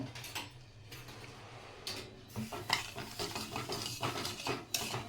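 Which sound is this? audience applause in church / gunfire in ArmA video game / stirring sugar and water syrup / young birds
stirring sugar and water syrup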